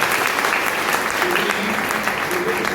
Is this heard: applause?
yes